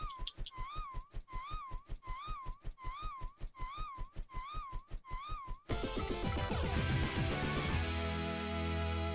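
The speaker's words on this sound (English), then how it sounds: "this cat makes a funny noise" A cat in the Scott Pilgrim vs. The World video game gives a rhythmic run of about eight warbling, wavering electronic meows, close and clear, followed by a burst of loud, busy game music and effects.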